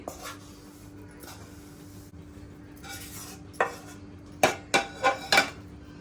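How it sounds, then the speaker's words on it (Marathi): Thick jaggery papdi mixture is poured and spread into a ghee-greased dish, giving a few soft scrapes and then a run of sharp clinks and knocks of a utensil against the dish, close up, with no talking. "आता आपण हे मिश्रण तूप लावलेल्या डिशमध्ये ओतून घेऊया"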